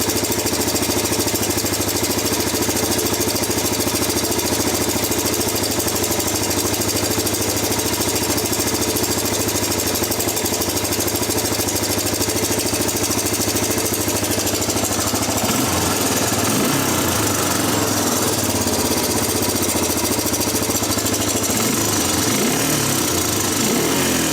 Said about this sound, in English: So you start to hear the quad die off.